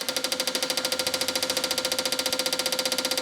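A fuel injection tester runs an engine simulation with a rapid, even mechanical ticking pulse, close and steady, its clicks coming fast in a continuous rhythm.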